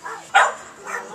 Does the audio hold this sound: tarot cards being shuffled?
no